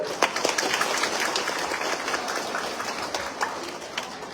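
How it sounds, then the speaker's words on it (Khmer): Audience clapping at a Cambodian Australian people's congress in Melbourne, a steady, dense spread of many hands with a few sharper claps, continuing evenly throughout. "តើបងប្អូនអាចគាំទ្រឬក៏យ៉ាងម៉េចសូម ផ្ទះដៃមួយ"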